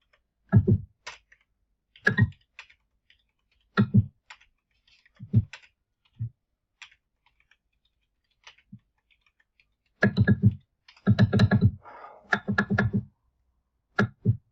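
Close keyboard typing comes in quick clattering bursts of keystrokes, separated by short silent pauses, with a longer flurry of clicks toward the end.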